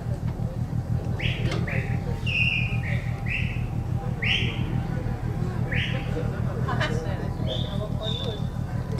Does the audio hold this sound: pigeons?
yes